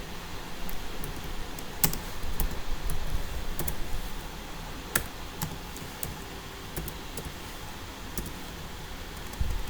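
Keys on a computer keyboard are tapped while entering JavaScript code, sparse irregular clicks with a few louder strokes spread across the stretch, close and fairly quiet over a low background hum, with no talking.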